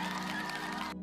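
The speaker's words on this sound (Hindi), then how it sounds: "अदालत के कमरे में शोर मच गया। खुशियों की आवाजें, तालियों की गूंज" Clapping and cheering from a crowd in a courtroom, a dense, loud wash of applause and joyful voices filling the whole second before it cuts off abruptly.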